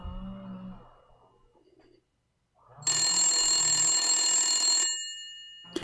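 A telephone rings on a call to an old phone line, a single sustained ring burst of about two seconds after a short quiet stretch, following brief faint sounds, with no talking.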